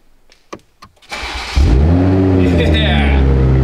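A Toyota Supra engine with no exhaust fitted cranks a few times, then catches and roars loudly into a rough, unmuffled idle.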